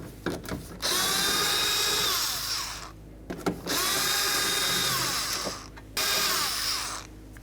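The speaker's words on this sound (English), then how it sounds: "We're going to remove these three bolts." A power tool with a 10mm socket spins out bolts on a 2004-2015 Nissan Titan door during front window regulator replacement: two long, loud whirring runs separated by brief gaps and ratchety clicks.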